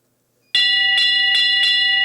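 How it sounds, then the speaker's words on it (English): At a show jumping grand prix, an electronic bell rings in four quick, evenly spaced pulses to start the round, clear and close after a moment of near silence. "The bell sounds and James commences his round."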